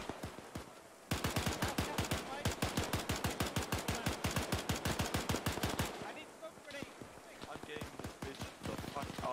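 Sustained suppressive fire from a Bren light machine gun in a video game: a long run of loud, rapid, evenly spaced shots, then sparser scattered shots. A voice talks at points.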